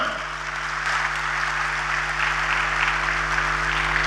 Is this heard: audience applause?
yes